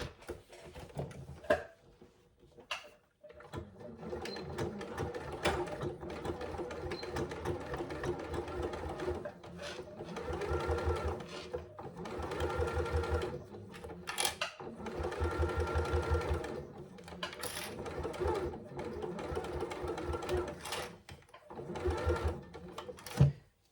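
Sewing machine stitching a zip pouch, running in several bursts of rapid mechanical whirring separated by short pauses and clicks, close and fairly quiet, with no talking.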